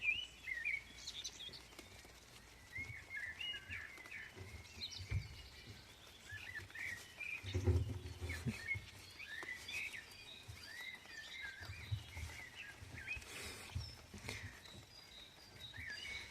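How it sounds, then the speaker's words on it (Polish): Small birds chirp and twitter faintly in a quiet outdoor setting, with brief scattered calls and soft rustling in the background. "Ptaszki śpiewają."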